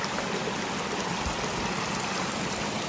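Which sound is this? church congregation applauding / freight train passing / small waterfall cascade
small waterfall cascade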